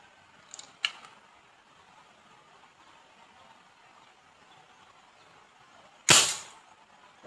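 An air gun fires an 8mm steel ball at a target with no scope, giving one sharp, fairly loud crack near the end, after faint clicks and a quiet stretch.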